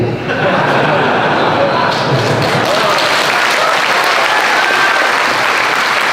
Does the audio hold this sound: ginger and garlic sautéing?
no